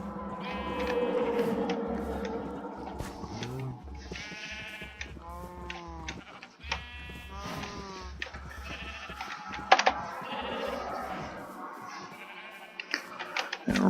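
Sheep in the Minecraft video game bleat repeatedly in short wavering cries, several overlapping at close range, with faint creaks and clicks between them and no talking.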